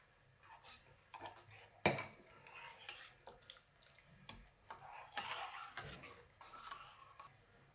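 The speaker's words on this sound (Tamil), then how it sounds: "இந்த மிக்சியில் அரைச்சி வச்சுருக்கிற அந்த மசாலாவையும் போடுறேன்" Ground masala from a mixie added to a pot of Karnataka-style thili saaru rasam, faint kitchen sounds of a spoon tapping and scraping metal with light liquid splashes and soft clatter, fairly quiet and sparse.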